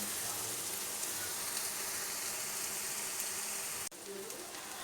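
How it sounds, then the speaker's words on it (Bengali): Spice paste with green chilli cooking in a pan for jackfruit-seed dal, giving a steady, fairly loud sizzle with a brief sharp break near the end. "মশলাটাকে এবার আমি ভালো করে কষিয়ে নেব"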